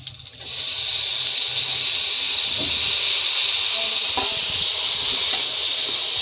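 Loud, steady hiss of tomatoes sizzling in hot oil for a dry fish gravy, constant throughout with a few faint clinks, after a brief quieter start.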